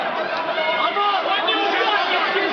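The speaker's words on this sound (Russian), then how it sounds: "Я думаю, вы прекрасно слышите, как скандируют «Россия, Россия»" A crowd of fans in the stands at a ProFC mixed martial arts fight, a dense, continuous roar of voices and chanting filling the arena without a break.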